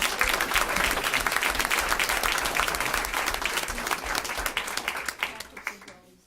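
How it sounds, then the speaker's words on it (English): An audience at a school committee meeting breaks into steady, dense applause that carries on evenly for several seconds before thinning out into a few last claps. "So let's clap it up for Christine."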